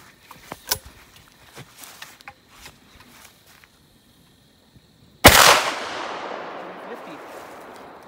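A single 24 gauge shotgun slug fires at an outdoor range, one sharp loud blast with a decaying echo, preceded by faint scattered clicks and handling noises.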